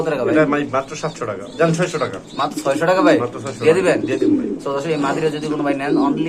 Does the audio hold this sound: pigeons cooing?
yes